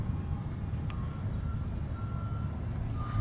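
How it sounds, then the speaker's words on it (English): An ice cream truck far off at a Kissimmee, Florida lakefront park, its faint thin melody tones drifting over steady outdoor background noise. "I hear the ice cream truck way out off in the distance there"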